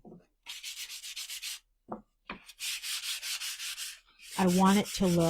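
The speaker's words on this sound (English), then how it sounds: "we're going to sand this, and this is the one I wanted to really sand off." Repeated scratchy strokes of sandpaper rubbing wood, in steady bursts with short pauses, close up; a voice speaks briefly near the end.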